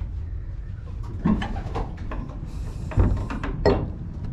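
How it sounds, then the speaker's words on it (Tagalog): Pigeons coo softly in low, repeated bursts close by, alongside some rustling and a brief sliding scrape. "Ang aking mga kalapati"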